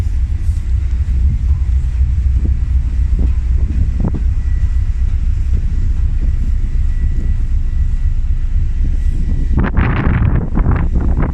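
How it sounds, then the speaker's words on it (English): Wind on a ship's deck blows as a steady, heavy rumbling roar into the microphone, loud and constant, with some buffeting thumps and a burst of stronger gusts near the end. "it will get a bit windy until we're up top."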